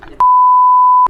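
A single steady censor bleep, a flat mid-pitched tone lasting just under a second, loudly masks abusive words. A brief moment of talk comes right before it.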